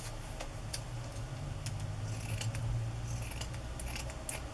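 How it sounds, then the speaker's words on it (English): Scissors snip through fabric trim for an autumn journal, with several crisp, close cuts over a quiet background. "and I'll cut this one off"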